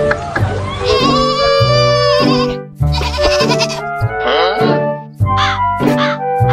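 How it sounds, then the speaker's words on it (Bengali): Goats bleating loudly and repeatedly nearby, several long wavering cries with short gaps between them, at a livestock sale where people haggle over buying a goat. "ছাগল আছে এদিকে, এদিকে আন।"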